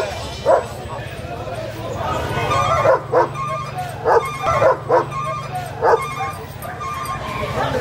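German shepherd dogs bark in repeated sharp bursts with some yips and whimpers at a crowded Friday dog market, loud and close, with people talking throughout.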